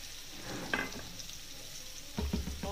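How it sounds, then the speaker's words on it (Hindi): Garlic frying in oil in a home kitchen gives a steady, close sizzle with a few sharper crackles and stirring clatters near the start and the end, with no voices. "इसके बाद इसको अच्छे से फ्राई होने देंगे इसके अंदर ही"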